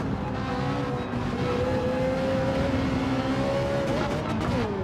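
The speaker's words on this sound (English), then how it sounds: "two of these Ferraris together, listen to it" Two Ferrari race cars in Gran Turismo 7 running together, a loud continuous engine drone with rising and falling pitch as they accelerate and shift, with brief tire noise near the end.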